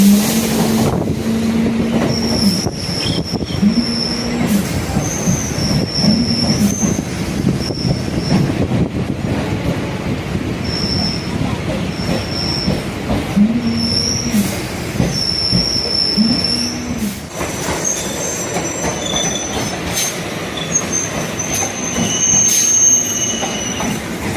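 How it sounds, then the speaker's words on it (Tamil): A suburban MRTS train in Chennai rumbles past continuously with metallic wheel squeals and clattering rails, loud and close, and no voices. "இது சந்தாபுரம் போகிற எம்ஆர்டிஎஸ் ட்ரெயின்."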